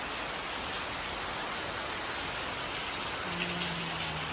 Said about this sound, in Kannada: ಹೊರಗಡೆ ಮಳೆ ಬರ್ತಾ ಉಂಟು